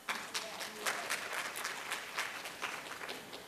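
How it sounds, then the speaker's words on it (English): Audience applause at a talk, a crowd clapping steadily and fairly distant, dense overlapping claps with a few sharper ones standing out, sustained for several seconds. "Can we have a hand clap for that?"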